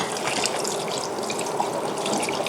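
Tap water runs steadily over fish maw that has been softened and is being gently squeezed to rinse out vinegar and oil, a continuous close splashing gush with no voices.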